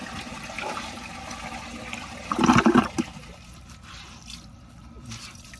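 A 2002 Sanitarios Maracay toilet flushes in one short gushing burst of water lasting about a second, followed by quieter trickling and refilling in the bowl. The sound is fairly close and there is no talk.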